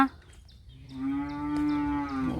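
A calf calling for its mother gives a single close, drawn-out moo that swells in pitch and loudness over about two seconds after a brief breathy start.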